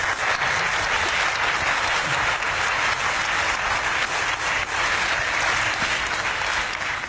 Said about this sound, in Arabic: نعم، لقد صفق لك الجمهور كثيرا